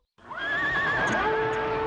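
Horses whinny loudly in a Doraemon cartoon scene as mounted troops charge down the Hiyodori-goe cliff toward an enemy camp, one long wavering neigh rising and holding alone over a steady din.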